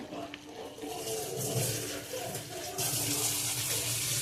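Water streams steadily into a vessel, a close continuous trickle and splash that grows slightly fuller toward the end.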